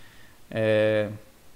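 A pet cat gives a single clear, close meow lasting about half a second in a quiet room.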